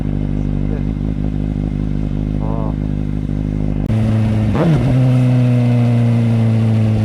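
A Suzuki GSX-S750 motorcycle idles with a deep, steady exhaust rumble, then a brief blip of throttle rises and settles back into a lower, smoother idle close by, with faint voices in the background.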